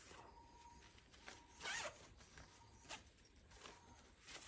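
Zipper on the carry case of an Assassinator II four-piece fishing rod being pulled open in several short, crisp bursts, one longer louder run near the middle, close to the microphone in a quiet room.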